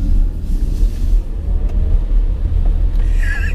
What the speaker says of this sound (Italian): faccio un po' di partenze e accelerazioni sportive.